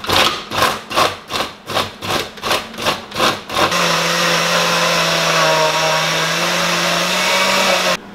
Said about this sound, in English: So I think the motor of my blender has met its match.